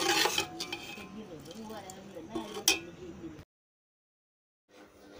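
Dry sun-dried mango pieces being stirred with spices for a traditional mango pickle, giving close scraping and clinking against the bowl in uneven bursts, then a pause of silence before a faint resumption.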